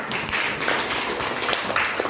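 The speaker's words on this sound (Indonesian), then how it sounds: "Tepuk tangan." A classroom of pupils clapping their hands together, a brief dense burst of overlapping claps, close and moderately loud.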